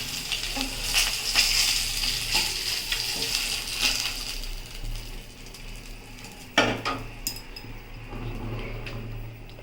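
Cut potatoes going into hot oil after fish has been fried, a steady bright sizzle with occasional clinks of a utensil against the pan, close and fairly quiet.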